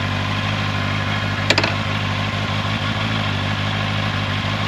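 A 2025 Honda CBR650R with E-Clutch idles with a steady, close engine rumble, with one brief sharp click partway through and no talking.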